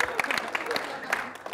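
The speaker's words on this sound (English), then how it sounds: "you're clapping like I asked you to" A studio audience at an evening comedy show claps in scattered bursts, thinning toward the end, with a host speaking over the applause.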